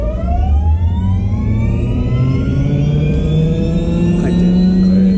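Helicopter turbine engine spooling up during start, a steady loud whine with rising tones climbing in pitch continuously over the rumble, heard close and alone.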